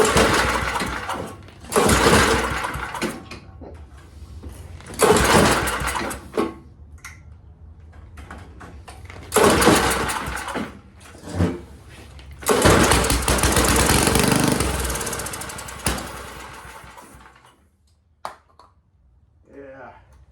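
Small engine with a bad carburetor bursts into loud, rough running several times, sputtering out between attempts, with someone talking in the quieter gaps.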